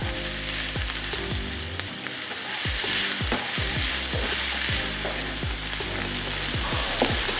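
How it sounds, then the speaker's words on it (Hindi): A chicken mixture for a Philly cheesesteak sandwich stirred and fried in a pan: loud continuous sizzling with repeated scraping strokes and spatula knocks at a steady rhythm, no voices. "ये डालने के बाद आपने इसको अच्छा सा मिक्स किया"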